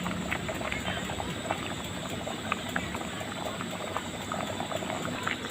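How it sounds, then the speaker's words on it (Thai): Thai khilek curry with pork belly boiling in a pot, a steady bubbling churn with small pops, close and constant, with no clear talking. "เสร็จเราก็คนไปได้ให้เดือดสักพักนึง"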